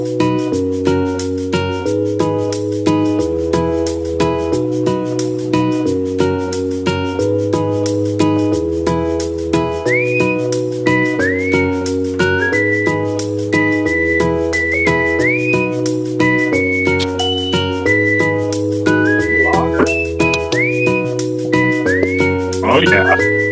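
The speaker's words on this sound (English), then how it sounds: "Wait for the whistle." Whistled melody rolling a show's outro, a bright sliding tune repeated over steady backing music, loud and continuous throughout.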